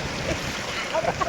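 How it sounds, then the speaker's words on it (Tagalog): Wind blows across an outdoor swimming pool on a cool day, a steady broadband rush with gusty buffeting on the microphone, close and continuous for the whole moment. "It's because it's windy."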